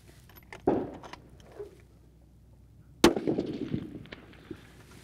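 Two sharp rifle shots from a .243 Ruger Precision Rifle fired without a muzzle brake on a long-range shooting range, each a loud crack followed by a brief decaying echo, spaced a few seconds apart.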